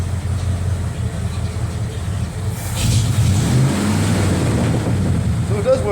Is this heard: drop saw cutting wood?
no